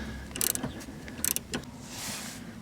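A wrench ratchets on the nut of a rear stabilizer link bolt on a 1998 Corvette, giving a few quick, close clicking bursts followed by softer mechanical scraping.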